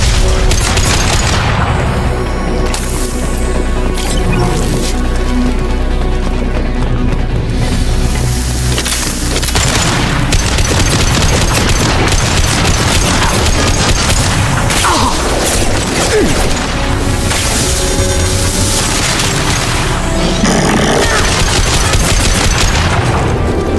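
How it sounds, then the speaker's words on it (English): Impact shot gunfire in the video game Mass Effect 2, a dense stretch of booming shots and rapid bursts layered over constant loud battle noise and mechanical clatter throughout. "Firing an impact shot."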